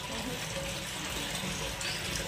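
Water running from a pipe into a pot at home, a continuous close gushing stream holding steady throughout, with no clear talk over it.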